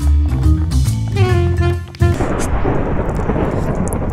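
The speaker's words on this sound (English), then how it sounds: "Who just cast the thunder spell?" Thunder summoned by a spell in Minecraft rolls in loud and close, a deep sustained rumble over steady rain, with a tonal in-game sound fading out beneath it just before the crash.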